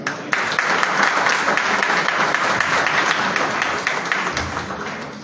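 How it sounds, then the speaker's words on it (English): An audience in a hall at a Liberian government civil service launch event applauds steadily. The dense, even clapping lasts about five seconds before it fades out. "Thank you for clapping for me."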